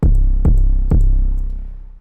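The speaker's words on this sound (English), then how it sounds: "We switched to the Pooh 808, which sounds like this." The Pooh 808 bass from the Memphis Essentials kit hits three times at an even pace, each deep boom swelling loud and sustaining, the last one ringing out longer before cutting off.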